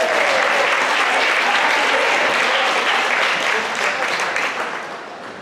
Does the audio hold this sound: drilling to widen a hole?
no